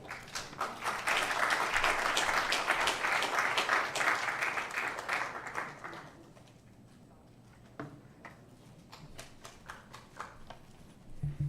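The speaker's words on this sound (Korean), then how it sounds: "우리 태성철 목사님 나오실 때에 열렬하게 뜨거운 박수로 맞이해 주시기를 바랍니다" A church seminar audience gives the pastor a warm round of applause that swells, holds for several seconds, then fades to scattered claps and quiet room noise.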